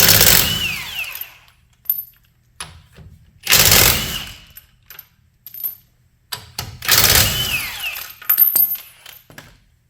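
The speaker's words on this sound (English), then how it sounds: "now we're going to remove the rest of the lug nuts" Lug nuts coming off the rear wheel of a Porsche 911 (991) with a wrench: three loud bursts of ratcheting and clattering metal, separated by near silence and small clinks.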